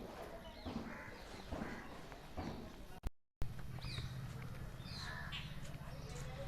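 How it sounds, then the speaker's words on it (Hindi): Birds call at the Devraha Baba ashram in Vrindavan, with cawing crows and chirps scattered over a noisy outdoor background, cut by a brief dropout partway through. "पक्षी और चिड़िया"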